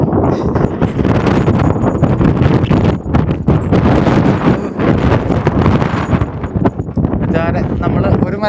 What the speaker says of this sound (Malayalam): കാറ്റിന്റെ സൗണ്ട് കേൾക്കാതിരിക്കില്ല